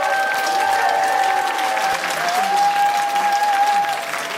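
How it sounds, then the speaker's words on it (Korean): Applause from a forum audience after a talk on Korea's international situation: a full, even roar of clapping from a large crowd with a faint steady tone sustained beneath it, holding at a constant level throughout. "여러분 다시 한번 큰 박수 부탁드리겠습니다."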